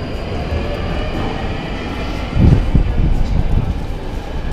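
A London Underground metro train rumbles at a station platform, a low steady roar that swells noticeably midway as the train draws nearer, with faint clatter in the background.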